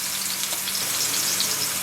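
Turmeric and spices fry in oil for a beef curry, giving a steady, close, loud sizzle with a bright crackling hiss that holds evenly from start to finish, with no talking.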